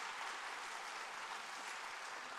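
Church congregation applauding steadily to honor longtime elders at a Korean Sunday service, a dense continuous wash of clapping from many hands throughout.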